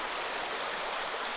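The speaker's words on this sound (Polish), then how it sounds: "Piękny strumień sobie tutaj płynie." Clear water in a stream runs in a steady, close, even rush with no voices over it.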